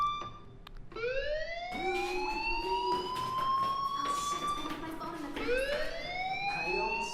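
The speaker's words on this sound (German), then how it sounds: "Hey, do you hear that fire alarm?" A fire alarm in the video game Life Is Strange sounds, with rising electronic siren-like sweeps that climb and repeat loudly, restarting partway through, without speech.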